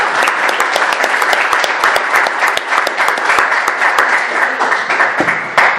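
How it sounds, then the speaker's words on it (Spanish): Audience applause in a hall, loud and dense with many sharp individual claps close by, sustained without pause for several seconds. "un aplauso entonces"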